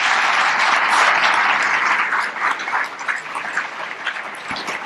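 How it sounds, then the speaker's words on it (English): Broad, steady applause from the audience at a county state-of-the-county address, loud and dense at first, then thinning out toward the end with scattered claps. "help me give them a round of applause"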